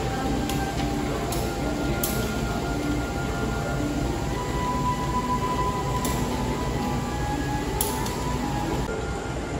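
A continuous low rumble of the Jaka Tingkir passenger train rolling into Purwosari station, Indonesia, with occasional sharp metallic clinks and a faint high whine.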